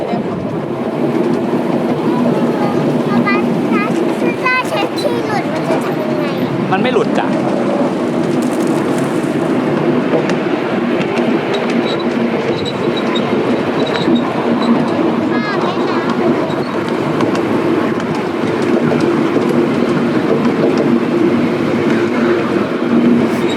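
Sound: miniature ride-on train running

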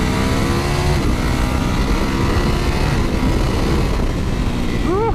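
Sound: Ducati Panigale V4S motorcycle engine accelerating

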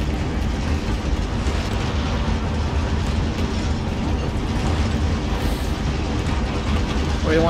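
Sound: train passing in a video game

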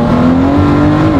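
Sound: Ford GT twin-turbo V6 car accelerating

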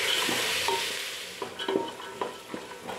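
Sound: frying legumes and green peas in a pan

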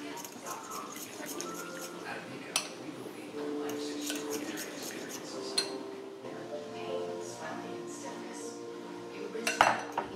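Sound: mixing butter, oil and herb spice mixture in bowl

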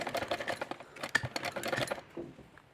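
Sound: sewing machine stitching a turban

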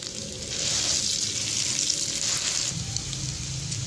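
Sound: egg sandwich pieces frying in a pan

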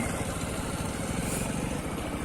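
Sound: motorcycle engine running while moving slowly

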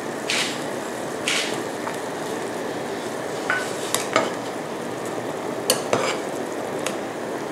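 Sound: stirring toasted rice into Thai chicken curry (gaeng om)

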